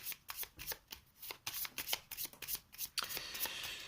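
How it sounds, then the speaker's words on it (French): A deck of cards riffle-shuffled during a board game session, a fast papery flutter and brisk snapping bursts running almost continuously at close range, ending in a sustained ruffle. "Je remélange du coup l'ensemble du paquet et on va piocher 2 cartes."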